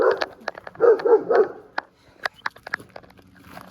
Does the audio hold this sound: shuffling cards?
no